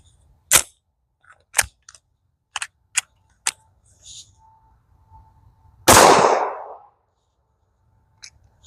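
Sharp pistol gunshots from a Canik TP9SFX at an outdoor target practice session, with about seven distinct shots at irregular intervals and one louder, longer blast with a trailing decay.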